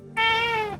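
A female cat gives a single loud, drawn-out meow up close, with no talking over it.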